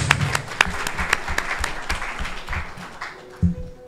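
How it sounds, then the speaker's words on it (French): Audience applause at a literary event in Senegal, a steady round of clapping filling the hall for about four seconds. The clapping is sustained and moderately loud, with a few sharper claps standing out and a brief thump near the end. "Sous vos applaudissements."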